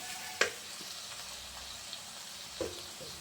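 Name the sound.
spice paste sautéing in a pan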